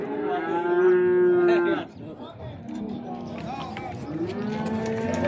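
Calves lowing at a cattle market in Beylagan, Azerbaijan: one long, loud close moo, then a busy backdrop of more calves and people talking among the livestock.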